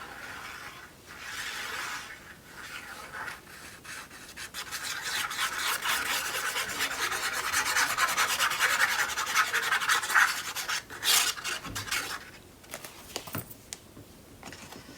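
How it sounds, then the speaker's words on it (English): Tape is burnished down onto a mini album page with steady, dry, close rubbing and scraping strokes that build and then break into short scratchy bursts near the end. "I'm just burnishing this just to make sure the tape stays down."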